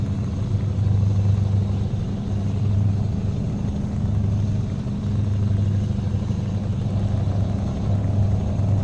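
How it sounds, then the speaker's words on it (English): A steady, heavy truck engine rumble in Euro Truck Simulator 2 drones continuously with a low pulsing hum, loud and constant throughout. "Now, granted, I'm sure this truck is loud"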